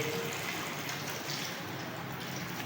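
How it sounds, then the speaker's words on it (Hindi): Water being poured into a cooking pot holding about one kilogram of potatoes, a steady close hiss and gush that keeps up the whole time, alone with no talk. "पानी ऐड किया जा रहा है"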